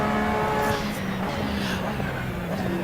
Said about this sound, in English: pick up some of the beautiful reverb sound from the car's external noises there as we go under the bridge